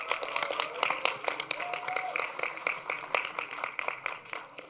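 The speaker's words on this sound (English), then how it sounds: "Can we get another round of applause for our two grand finalists?" A crowd applauds steadily at a middle-school English debate final, many hands clapping in a dense, continuous patter that slowly fades toward the end.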